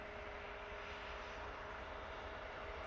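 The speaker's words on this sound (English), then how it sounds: "we do have a Virgin Atlantic A330 making its way out towards us" A Virgin Atlantic Airbus A330 jet at Manchester Airport, heard as a steady, fairly faint broadband engine roar with a low hum that holds level throughout, with no voices over it.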